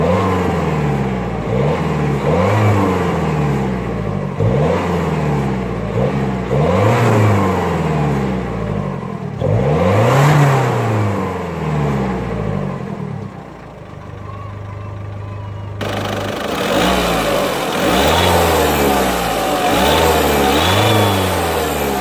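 A 2018 Citroen C3 diesel engine, not yet fully warmed up, idles and is revved repeatedly in short rising and falling bursts, loud and close, with a steadier idle stretch midway before more revs follow.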